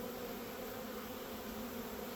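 Honeybees hum in a dense, continuous drone during a pre-winter inspection of a nucleus colony, a steady close buzz with no voices.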